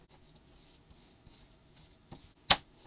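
Soft rustling and rubbing of playing cards from the Bravo Bravo card game as several small decks are shuffled together, ending in one quick, louder riffle near the close.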